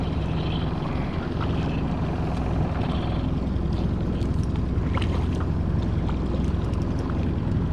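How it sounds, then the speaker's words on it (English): A boat motor, briefly shifted into gear, drones steadily and close on a lake, a constant low rumble with faint watery splashes, no voices. "I will take the boat and put it, into gear briefly and then back into neutral"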